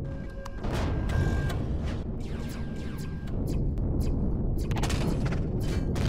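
Turrets firing in the space survival game Empyrion Galactic Survival: dense, continuous booming gunfire and crashing impacts with a rumbling low end, loud and sustained, with whooshing sweeps and sharp crackles on top.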